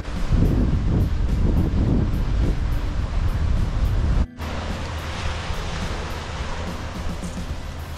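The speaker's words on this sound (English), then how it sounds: "So this is actually Little Pikes Beach." Surf rolling onto Little Pikes Beach at Jervis Bay, Australia, a broad, steady roar of waves mixed with wind buffeting the microphone, loud throughout with a brief dropout midway.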